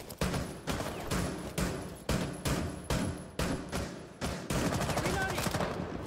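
An R4-C rifle fires in Rainbow Six Siege: about eight short automatic bursts come in a fairly even rhythm, loud and sharp, then a longer sustained burst at the end.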